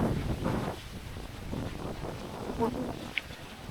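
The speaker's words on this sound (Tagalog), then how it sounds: "Grabe yung hangin." Strong gusting wind buffets the microphone at a lagoon in Mindoro, a steady low roar with rising and falling surges, while a person talks over it.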